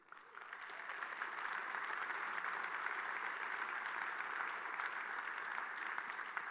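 Steady applause from an audience at a retail leadership talk, dense and sustained throughout, with no speech over it.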